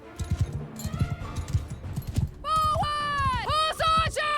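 Horses in the Mount and Blade Bannerlord video game thud along in repeated hoof clip-clops, with a horse neighing loudly over the last couple of seconds.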